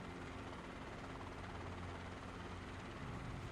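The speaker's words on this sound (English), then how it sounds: "you could land a helicopter" A helicopter in the Microsoft Flight Simulator 2020 game, played in VR: steady rotor drone and engine whine fill the clip at a constant level, with no voices.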